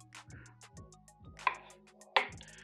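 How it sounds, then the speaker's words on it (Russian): Knife chopping raw chicken into small portion-sized pieces for a chicken curry, a series of irregular dull cutting thuds on a board with two sharper, louder knocks, heard alone at close range. "курицу нарежем на небольшие кусочки порционные"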